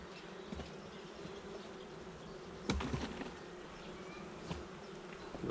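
Honey bees buzz at an open beehive, a dense continuous drone of many wings close by, with occasional louder passes and faint knocks of handling.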